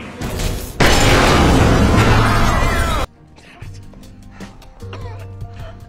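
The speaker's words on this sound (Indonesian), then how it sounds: "para perampok tetap melanjutkan untuk membom lemari besi" A sudden loud blast from a vault being blown open crashes in and roars for a couple of seconds, then cuts to quieter rumbling and mechanical clatter with a low hum.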